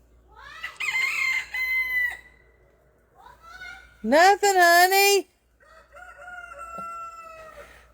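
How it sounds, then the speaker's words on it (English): Loud, close chicken clucks and drawn-out warbling calls come in bursts, with a person talking briefly between them. "I hear you cluck."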